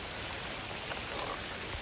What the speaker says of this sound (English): while it's pouring down rain